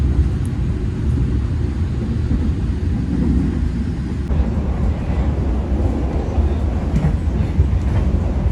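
The KA Ranggajati passenger train, running new generation carriages, gives a continuous heavy rumble of wheels on rails, steady and loud throughout, with no voices.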